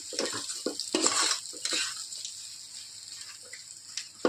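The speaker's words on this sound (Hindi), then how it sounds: "इस मसाले को थोड़ा मिक्स कर लेंगे इस तरह से।" Masala for stuffed tomato gravy is stirred and fried in a pan, with scraping strokes of a spoon over soft sizzling, irregular and close, with no one speaking.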